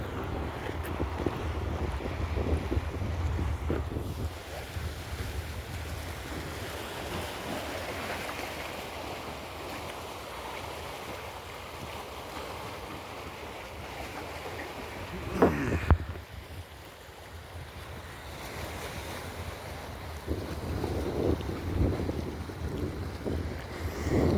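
Strong sea wind roars and buffets the microphone aboard a boat about two kilometres offshore near Parappanangadi harbour. Waves wash underneath, and a louder gust swells midway.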